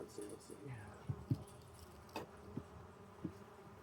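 Honey bees drone softly around an open backyard hive with wax built on the inside cover, a faint steady hum beneath quiet talk and a few small knocks from handling frames.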